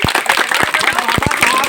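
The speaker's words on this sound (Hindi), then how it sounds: "ताली बजाओ, अभी लड्डू मिलेगा।" Audience at an outdoor community gathering claps in a loose, uneven patter of distinct hand claps, fairly close, with some murmur of voices beneath.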